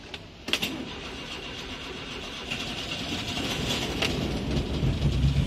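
A car engine starts with a sharp burst and then rumbles, revving steadily louder, echoing inside a shopping mall parking garage.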